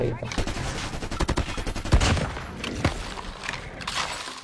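Sniper rifle fire rings out in a mobile shooter video game, several loud cracks amid dense, rapid gunfire and clattering effects that keep up throughout.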